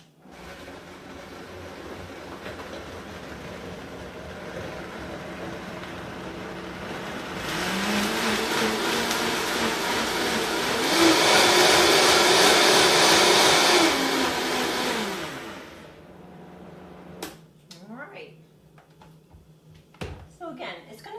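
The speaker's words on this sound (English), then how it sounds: "We're going to blend it." A blender purees red pepper dressing: its motor swells into a loud, steady roar for roughly eight seconds, then cuts off, leaving quieter handling sounds.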